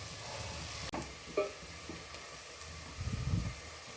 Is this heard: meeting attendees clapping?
no